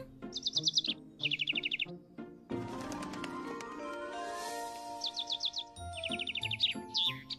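A cartoon bird chirps in quick repeated bursts of high tweets between musical tones and effects, bright and close, with no talk.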